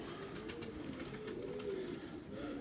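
Bursa oynar tumbler pigeons in a loft, giving soft low cooing that rises and falls over a faint, busy background, fairly quiet and without talk.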